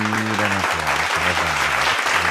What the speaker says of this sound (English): you need an applause for